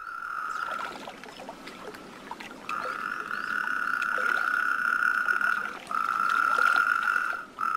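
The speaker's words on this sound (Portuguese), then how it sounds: "o que permite que o sapo corredor, entre outros sapos, comece a coachar." Natterjack toads call from a wetland in the Iberian winter, long sustained rolling trills that stop and restart, loud and close, with fainter croaks from other toads behind them.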